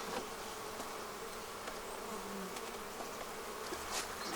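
Honeybees buzz steadily around an opened beehive as colony bees are shaken onto it, forming a constant low drone of many insects with no voices.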